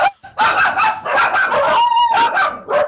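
Several dogs bark and yip close by in a loud, continuous flurry of overlapping barks with brief gaps, excited and agitated throughout.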